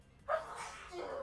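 One short, close sneeze bursts out, followed by a breathy exhale, at low volume in a quiet room.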